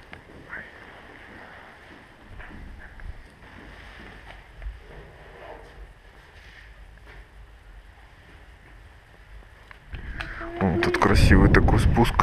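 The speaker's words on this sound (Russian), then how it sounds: "Ветер сразу." Wind gusts buffet the microphone at the Chateau Fort de Lourdes in France, growing into loud rumbling blasts near the end, with faint background sounds beneath.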